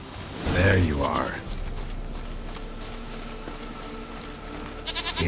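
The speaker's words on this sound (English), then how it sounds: "Here, goat." A goat in The Witcher 3: Wild Hunt gives a short bleat near the start, over game ambience and music, with a scraping hoof-like shuffle toward the end.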